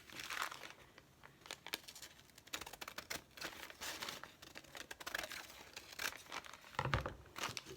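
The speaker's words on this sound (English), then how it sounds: "I can do it with my scissors." Paper being snipped with scissors for an art project, a series of crisp crinkling and cutting snips with brief pauses, fairly faint and close.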